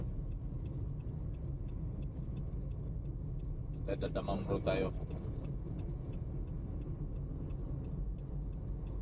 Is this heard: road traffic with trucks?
yes